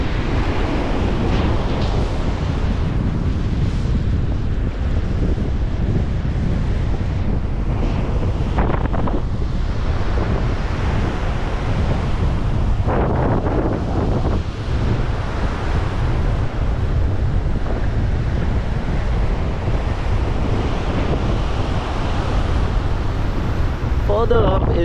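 Strong wind buffeting the microphone over the steady wash of ocean waves at Benaulim beach in South Goa, continuous and loud throughout, with faint voices now and then.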